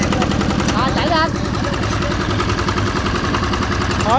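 A Mitsubishi CT553 tractor engine on an M85 machine chugs steadily at close range, loud and continuous, with voices talking over it.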